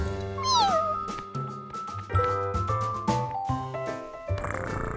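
A cartoon kitten meows in a sliding, high-pitched cry near the start, set against a busy, bright musical backing that continues throughout.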